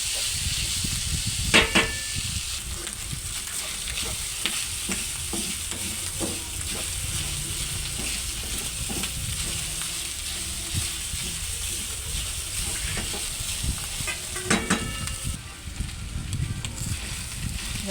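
Ingredients for spaghetti sauce sizzle steadily in a hot pan while being sautéed, with a constant close frying hiss and a few sharp clinks of a utensil against the pan.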